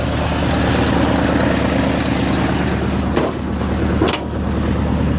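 A 1977 Ford F100 pickup with a swapped-in Tremec 5-speed runs steadily close by, a loud continuous engine rumble that dips briefly twice near the end before settling back.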